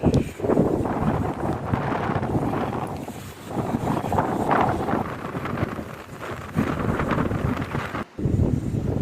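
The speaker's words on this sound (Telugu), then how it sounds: "సో చాలా హైట్గా ఉంటుంది కదా, సో గాలి బీభత్సంగా వచ్చింది." Strong wind gusts roar steadily across an open hilltop at Kanigiri, a loud, continuous low buffeting rush on the microphone that dips briefly near the end.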